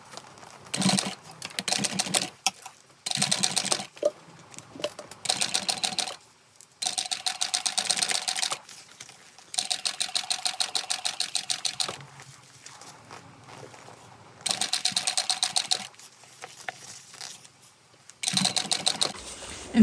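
A home sewing machine stitches a seam on a Park Mini Backpack at full seam allowance, running in several short bursts of rapid, even clatter with brief pauses between them, close and clear with no talking.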